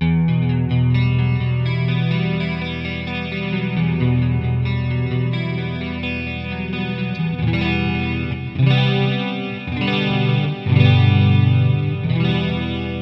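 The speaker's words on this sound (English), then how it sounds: "What I'm going to do is turn the chorus on as well." An electric guitar plays through a Digitech iPB-10 iPad pedalboard with its chorus effect on, sustained chords shimmering and swirling, full and steady with a few stronger strums toward the end.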